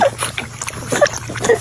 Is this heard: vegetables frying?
no